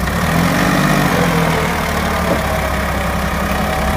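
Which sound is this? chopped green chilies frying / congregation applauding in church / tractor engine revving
tractor engine revving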